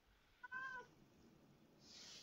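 A house cat gives a single short, clear meow indoors, fairly faint against quiet background noise.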